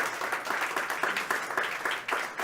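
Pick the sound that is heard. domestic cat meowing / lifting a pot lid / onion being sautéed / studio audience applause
studio audience applause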